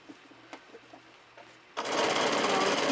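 After a few quiet seconds with faint handling noises, a sewing machine stitching a drawstring bag seam starts up and runs loud and steady with a fast, even whirring chatter.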